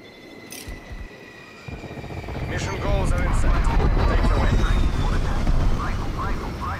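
A hostile spy plane flies overhead in the video game Call of Duty: Cold War. Its engine roar starts faint and swells into a loud, steady drone that fills the rest of the stretch.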